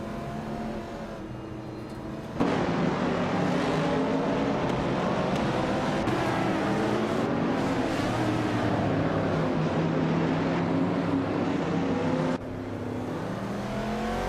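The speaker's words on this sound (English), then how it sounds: "The Group 5 cars are clearly dominating the front, with their power and agility showing on this track." Racing car engines roar continuously in a racing video game featuring Group 5 cars, a loud dense blend of several revving, shifting engines throughout, briefly quieter at the start and end, with no speech.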